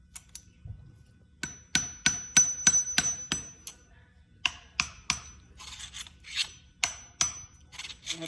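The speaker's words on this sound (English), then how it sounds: "So I'm gonna get a hammer. Basically just kind of like tap it in." Sharp metallic hammer taps drive a nut down into the steerer tube of a new fork on a Huffy Scout 26-inch mountain bike, a close series of separate light strikes in uneven bursts with short pauses, no talking.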